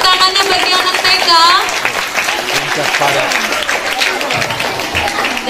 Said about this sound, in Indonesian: Boleh berikan tepuk tangannya bagi anak TK.